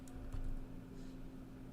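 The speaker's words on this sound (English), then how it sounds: "I can type something, or I should be able to type something" Keys clatter quietly on a computer keyboard, a short run of soft, close typing taps over a steady low hum.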